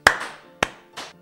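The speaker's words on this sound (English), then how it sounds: "Can I get a round of applause?" At a talk, an audience answers the speaker's call for a round of applause with only a few sharp claps. Three separate, close-by slaps are spread over about a second, with silence between them.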